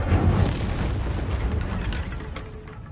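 An Incendio fire spell cast in Hogwarts Legacy bursts with a loud booming rush that decays into a fading crackle over a few seconds.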